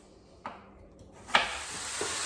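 Sausage meat fries in a pan with a steady broadband sizzle that swells after a couple of clattering stirs, close and alone with no talk.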